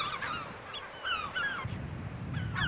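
Geese or similar birds on Inishmurray island give repeated honking calls in quick, overlapping bursts, fairly close and clear over a low background rumble.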